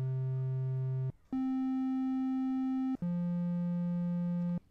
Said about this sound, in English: And let's listen to a triangular wave.